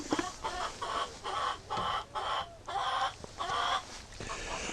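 Chickens cluck repeatedly in a barn, a series of close, moderately loud rhythmic clucks in bursts with brief pauses, with no talking.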